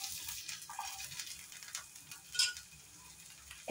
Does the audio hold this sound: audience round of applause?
no